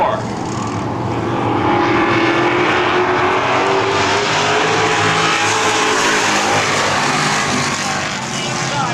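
Race cars in a 2008 trophy dash roar around an oval track, engines blaring loudly and continuously as they bunch through the turns, with a steady wash of crowd and venue noise.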